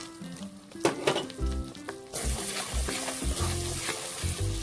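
A paste of ground poppy seed and cashew sautés in a pan on a low flame for a Bengali prawn malai curry, giving a soft, steady sizzle with occasional light scrapes of stirring.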